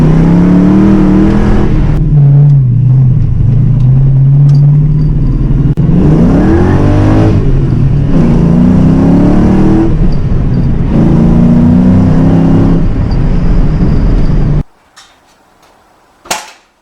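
A 1986 Ford Mustang GT pulls hard in second gear at about 3,000 RPM, a loud, close engine drone rising in pitch over roughly fifteen seconds, with tires spinning, before cutting off abruptly to near silence and a brief clunk at the end.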